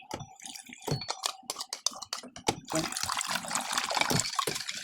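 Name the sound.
water being poured into a wok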